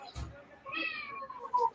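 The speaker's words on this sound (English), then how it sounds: "That's my cat." A pet cat meows indoors: a soft thump, then one drawn-out, fairly faint meow and a brief trailing chirp, heard alone in a quiet room.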